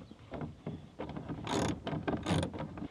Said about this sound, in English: I can make sure the ratchet's going the right way.